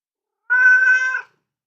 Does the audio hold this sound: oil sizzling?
no